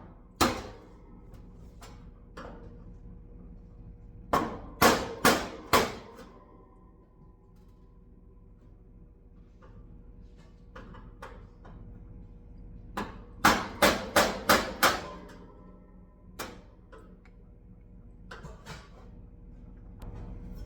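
Hammer blows breaking the small tack welds on a metal part, heard as two tight bursts of sharp metallic strikes, three to six quick hits each, with a few scattered lighter knocks between them, close and with no talk.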